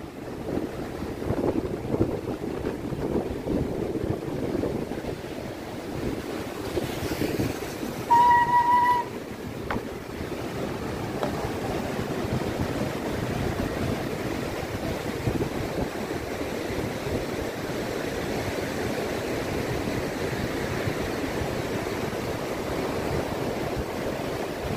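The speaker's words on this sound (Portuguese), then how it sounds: "Um pouquinho para vocês da Praia do Gravatá." Ocean waves at Gravatá beach in Navegantes, Santa Catarina, rumbling as a steady, broad wash of surf heavily mixed with wind buffeting the microphone, with no voices.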